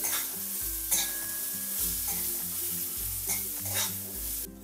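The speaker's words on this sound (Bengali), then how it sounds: "এবার দেব কুচিয়ে রাখা নারকেল, সাথে দিয়ে দেব কাজু কিশমিশ। সব কিছু একটু ভেজে নেব লাল লাল করে।" Grated coconut, cashews and raisins frying in a pan for Bengali cholar dal, a steady close sizzle with rhythmic stirring scrapes throughout, no talking.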